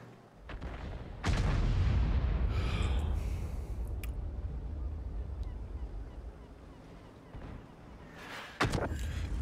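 Two heavy booming artillery shots in a video game, one early and one near the end, with a long rumbling decay and whooshing between them.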